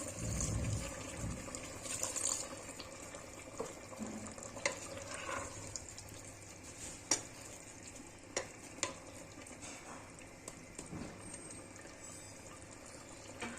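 Water poured into a pot of mutton and green beans cooking on the stove, with steady sizzling and stirring, a few sharp clinks of a utensil against the pot, and no talking.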